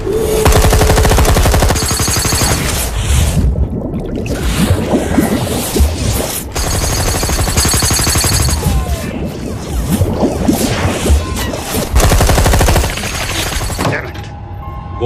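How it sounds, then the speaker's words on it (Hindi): Gunfire from a boat is sprayed into the water at sea at night. Long, loud bursts of rapid automatic shots are broken by short gaps, with splashing and crashing mixed in. "फायर करो उधर पानी में।"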